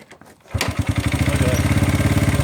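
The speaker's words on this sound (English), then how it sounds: "I want y'all to watch how easy this thing starts up now." A Honda XL125 motorcycle that sat in a barn for 33 years catches and starts after a short quiet stretch, then settles into a loud, steady, rhythmic single-cylinder idle close by.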